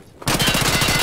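Rapid automatic Kedr submachine gun fire in the video game Escape From Tarkov cuts in abruptly after a brief quiet moment, a loud, dense burst of close shots in a fast even rhythm.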